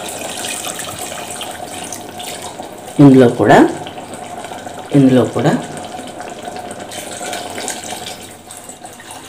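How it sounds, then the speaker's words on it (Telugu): Water is poured twice into a cooking pot of goat trotter (paya) soup, in two short splashing bursts a couple of seconds apart, set against kitchen background noise, with a person speaking briefly. "కొద్దిగా ఇందులో వాటర్ వేసుకుంటున్నాను"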